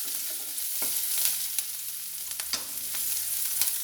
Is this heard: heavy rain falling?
no